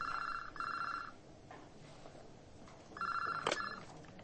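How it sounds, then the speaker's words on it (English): A desk telephone in an office rings in two clear bursts, an electronic double trill separated by a quiet gap, moderately near and with no talking over it. "At about 7:15 in the evening, the phone on my desk rang."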